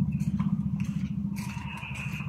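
A small motorcycle engine putters close by with a rapid, even pulse, fairly quiet and continuous, while faint voices and a higher tone come in toward the end.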